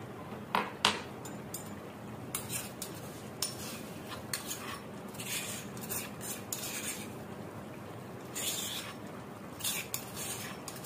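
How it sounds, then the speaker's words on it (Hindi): Crushed onions tipped into a korma pot and stirred, heard as intermittent metallic scrapes and clinks of a spoon against the pot over a steady low background. "और अब मैं इसमें शामिल कर दूंगी प्याज, जो मैंने इस तरह से आपके सामने कूट के रखा है।"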